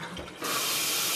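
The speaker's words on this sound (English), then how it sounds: "So I filled it half full of cold water." Cold tap water gushes into the tank of a Bissell rug and carpet cleaner, kicking in suddenly after a quieter rumble and holding as a loud, steady hissing stream.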